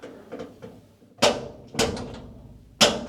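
Magnetic doors on a workshop cabinet being hung and shut, a few light knocks followed by three sharp, close thuds as the doors snap closed against their magnets, with short gaps between.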